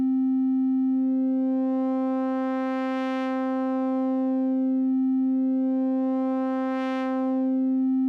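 A Synthmaster 3 VAnalog oscillator on the second order curve step holds one steady, bright synth note, and its tone swells and softens in a slow cycle.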